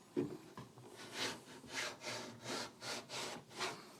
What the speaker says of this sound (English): And you do get these nice wood shavings coming off.